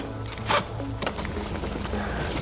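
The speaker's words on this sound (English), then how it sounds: "With the top strap, we're just going to clip it in, but we're not going to tighten it all the way." A strap buckle on a spinal immobilization device clicks shut with one sharp, close snap, then a few faint rattles of webbing and hardware follow against a low room hum.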